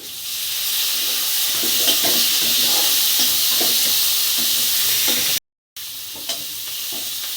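Tomato pieces sizzle in hot oil with cumin and mustard seeds, a steady loud frying hiss with light stirring clicks, broken by a brief silent gap before resuming.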